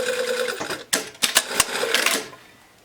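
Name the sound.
sewing machine stitching a jacket lining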